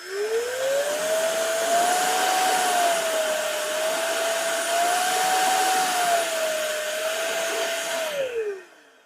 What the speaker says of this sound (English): So this is a blower. It is not a vacuum.